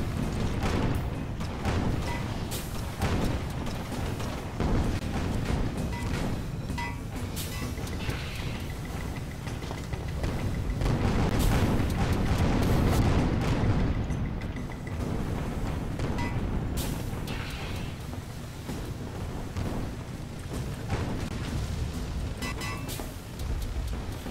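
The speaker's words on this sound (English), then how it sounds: "There's a lot of explosions." Continuous rumbling explosions and blasts from Guns of Icarus Online, dense and loud throughout with no clear gaps, no voices.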